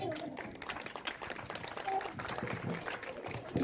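Everyone at a primary school Independence Day celebration claps for a student, and steady, fairly loud applause runs throughout with voices mixed in.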